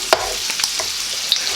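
Chicken fried rice fries in a pan with a steady, loud sizzle close up, broken by a few brief scraping stirs.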